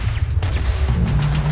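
Automated turret firing in the Starfield video game, a dense burst of rapid gunfire booming close and loud for a moment and a half, nobody talking.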